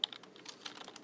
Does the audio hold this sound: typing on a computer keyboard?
yes